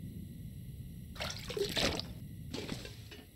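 Water is collected in the survival video game The Long Dark: soft splashing and trickling in two short bursts over a quiet, low background hum.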